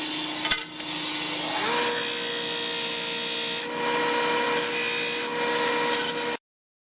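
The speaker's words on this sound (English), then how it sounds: "next I'm going to sand around the edges just to complete the profile" A power sanding tool works the edges of a brass trumpet part in a machine shop, running steadily and close for about six seconds with slight dips in pitch as it bears on the metal, then stopping abruptly.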